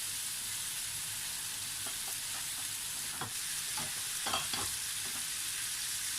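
Ampalaya (bitter gourd) seasoned with salt and pepper fries in a pan with a steady broadband sizzle, while a spatula stirs it every so often, scraping in a few short clicks and scrapes near the end.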